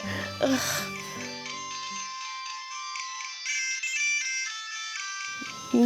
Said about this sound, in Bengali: দেখ না এত সকালে কে ফোন করলো